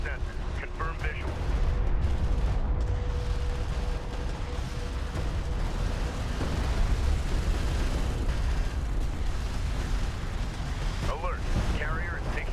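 Weapons fire pounds a carrier in the real-time strategy game Deserts of Kharak, a steady rumbling din of gunfire and explosions with a voice speaking over it.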